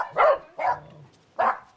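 A small pet dog at a garden house gives three short, sharp barks, close and distinct, with brief pauses between them.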